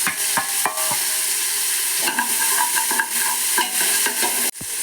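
Turmeric powder being stirred into butter rice frying in a pan, a loud, steady sizzle with repeated scraping strokes of a spoon against the metal and a sharp clank near the end.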